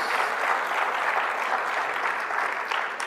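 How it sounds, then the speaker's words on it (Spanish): A large church congregation applauding steadily and loudly throughout, a dense continuous clatter of many hands clapping. "Fuerte ese aplauso a nuestro Dios."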